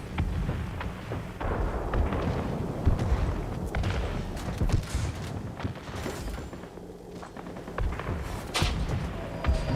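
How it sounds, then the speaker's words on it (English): Bomb explosions in the aerial combat game World of Warplanes: dense, continuous rumbling booms and thuds, a steady heavy barrage with brief louder bursts throughout. "See if we can get some bombing done."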